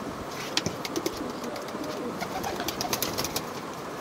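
Pigeons in a loft where young male birds are being raised for sale give soft, scattered coos and calls over a steady background hum, with occasional brief sharper peaks and no talking.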